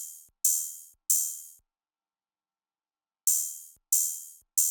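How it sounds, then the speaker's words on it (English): An open hi-hat in a bouncy trap-style beat gives bright, sizzling hits that ring and decay, two in quick succession, then a gap of silence, then three more, each clear and isolated. "Then I added this open hat that sounds like this."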